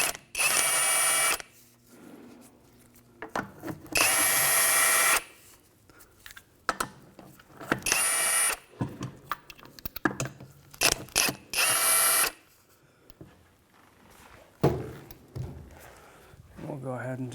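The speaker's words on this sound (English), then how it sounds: "loosen up these lug nuts with a 19mm socket" A ratchet with a 19mm socket loosens the lug nuts on a 2011-2015 Chevrolet Cruze rear wheel in several loud bursts of rapid clicking, separated by pauses while a person talks.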